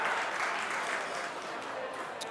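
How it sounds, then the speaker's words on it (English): An audience at a startup pitch competition conference applauds, a steady wash of many hands clapping that fades slightly toward the end, with a voice partly over it. "Another round of applause."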